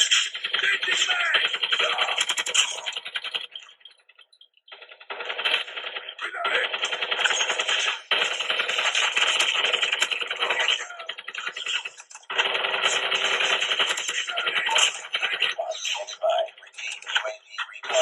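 Gunfire bursts from Call of Duty Mobile, played on a Redmi Note 11 Pro phone: long stretches of rapid, crackling automatic fire with brief pauses between. It sounds dense and bright, loud and steady, with no talk over it.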